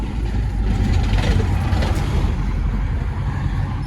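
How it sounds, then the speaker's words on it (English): Steady, loud road traffic rumble with heavy engine noise from passing vehicles, continuous throughout with no speech. "Sorry about that, bit of traffic noise."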